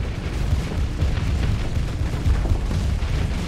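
Torpedoes striking a space station in the Starsector game set off a dense, continuous barrage of loud, rumbling explosions, one boom piling onto the next with no pause.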